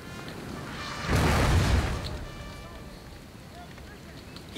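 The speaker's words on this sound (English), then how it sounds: "Lots of explosions." Battle explosions in the Napoleon Total War strategy game: a muffled boom swells and fades over about a second amid continuous low battlefield noise.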